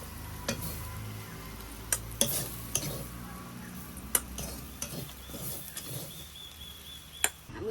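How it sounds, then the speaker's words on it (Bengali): Ghatkol leaves fry in hot oil with a soft steady sizzle while a spoon or spatula scrapes and stirs the pan, leaving a handful of sharp metallic clinks scattered through the clip; close and moderately quiet, with no voices. "বন্ধুরা আমার ঘাট কলটা এখন ভাজা হয়ে গেছে"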